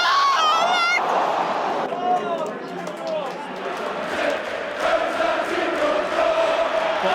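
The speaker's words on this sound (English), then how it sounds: "they're cheering around us because Dortmund have scored" Stadium crowd at a Champions League night with Newcastle, reacting as Dortmund score against Paris Saint-Germain elsewhere: a loud, sustained roar and cheering of a large crowd close around, with whistles and shouts rising and falling throughout.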